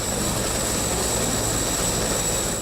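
Bell 412 helicopter, one of two modern rescue and protection helicopters newly arrived in Croatia, gives a steady, loud turbine roar with a constant high whine, continuous and unbroken with no talk.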